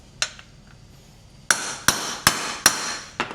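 Hammer blows on a part in a Chevy 250 inline-six engine: one sharp metallic strike, a pause, then four evenly spaced ringing hits and a final one, loud and close.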